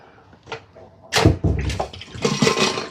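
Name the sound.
water running while rinsing zucchini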